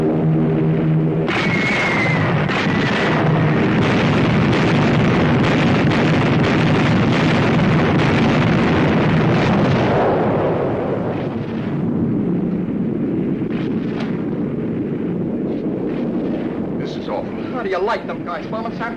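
Bombs exploding in an air raid on a city, a heavy continuous roar of blasts and rumbling that stays loud for about ten seconds, then eases into a lower rumble while voices and other noises rise.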